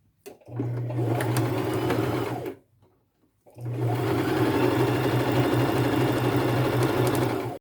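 A sewing machine stitches a fringe crossbody purse made from thrifted items with a half-inch seam allowance, running in two steady bursts of close, loud motor whir separated by a brief pause.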